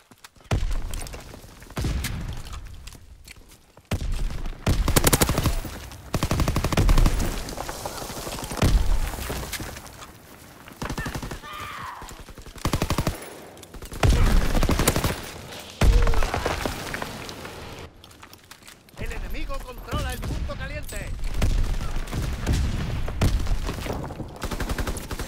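Dense bursts of gunfire and heavy thuds from a Call of Duty WWII battle, sustained and loud for most of the stretch, with brief lulls and occasional distant radio-style voices beneath.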